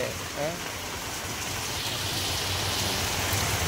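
Heavy rain pours over Ongole city in a steady, dense broadband hiss, with a brief voice near the start and the downpour continuing unbroken throughout.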